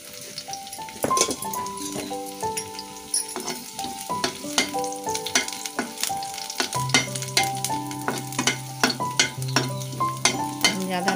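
Cumin, chopped garlic and ginger fry in a pan while being stirred, with a steady sizzle and repeated scraping and clinking of a utensil against the pan, close up with no talk.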